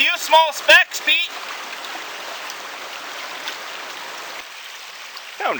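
A small secondary creek flows into Friday Creek in the Similkameen valley: a steady, gentle broadband rush of running water, close and continuous, after a few seconds of talk at the start.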